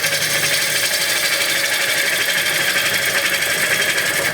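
A woodturning tool cuts a crotch wood platter on a lathe with light pressure, leaving ridges. It makes a steady, loud, unbroken rushing hiss with a constant whir underneath.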